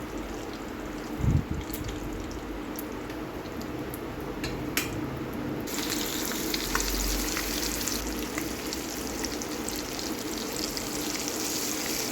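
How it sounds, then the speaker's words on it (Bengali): Thick-cut potato pieces with salt and turmeric fry in hot oil, giving a steady crackling sizzle that grows denser and louder partway through, with an occasional stir. "এর মধ্যে আলুগুলো দিয়ে দেবো মোটা মোটা করে আলুগুলো কেটে নিয়েছি লবণ হলুদ দিয়ে বেশ লাল করে ভেজে তুলে নেব"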